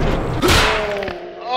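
A heavy ribcage punch in the video game One Finger Death Punch lands as a single loud, deep thud, with a voice talking over it.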